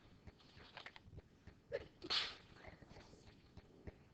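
A single person sneezes partway through, a sharp close burst standing out from a quiet indoor room during a spoken math lesson.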